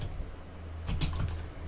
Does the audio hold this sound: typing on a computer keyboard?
yes